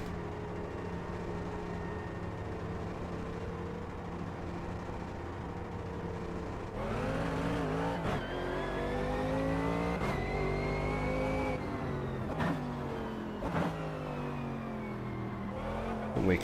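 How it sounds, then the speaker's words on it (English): A Mercedes AMG race car in a sim racing game at Montreal revs up with a throaty, rising engine note, shifting through gears in repeated climbs, steady and fairly loud with no talk over it. "You love the sound of the AMG. Very, very throaty."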